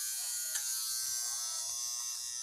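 A close electric shaver fitted with a nose hair trimmer attachment buzzes steadily and loudly on its own, a continuous high motor whine with no talking.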